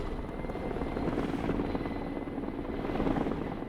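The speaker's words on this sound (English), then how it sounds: "First helicopter's almost out." A helicopter in the video game Broken Arrow gives off a steady, dense rotor and engine drone that holds at an even level throughout, with no talk over it.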